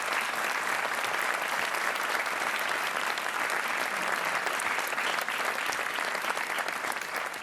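Studio audience applauds a contestant on the Portuguese TV game show Joker, a dense, even burst of clapping sustained loudly from start to finish with no break.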